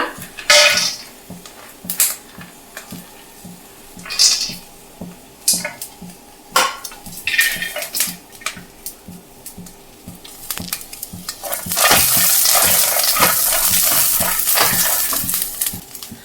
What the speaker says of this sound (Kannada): ಇವಾಗ ಇದಕ್ಕೆ ಶೇಂಗಾ ಹಾಕ್ಕೊಂಡು ಫ್ರೈ ಮಾಡೋಣ.